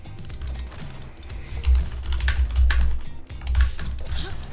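Rapid clicking of computer keyboard keys during a League of Legends match, steady close-up tapping with bursts of faster strokes over low game background sound, no voice.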